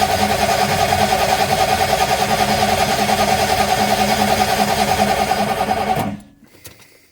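An engine cranks over with its fuel pumps disconnected and never fires: a loud, even, rapid rhythmic churning of the starter that keeps a constant beat for about six seconds, then stops abruptly, leaving faint clicks.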